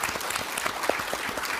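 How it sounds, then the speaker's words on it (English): Brief, steady applause from a conference audience at a panel discussion on economic growth, many hands clapping at an even, moderate level. "That's I think that needs an applause."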